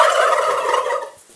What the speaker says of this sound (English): Meet the presidential turkey flock.